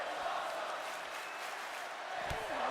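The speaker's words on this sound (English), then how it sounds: "the crowd saying this is awesome" A wrestling video game arena crowd chants over a steady roar, loud and sustained throughout, with a short thud near the end.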